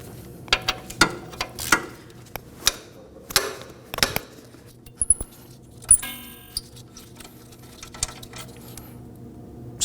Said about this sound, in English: The next thing I'm going to do is focus on removing my caliper bracket mounting bolts.